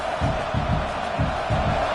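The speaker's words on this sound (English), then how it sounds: "This crowd, full throat, splitting the eardrums" A packed stadium crowd in the CFB26 college football game roars in rhythmic, pulsing chant-like surges, loud and continuous, with faint voices mixed in.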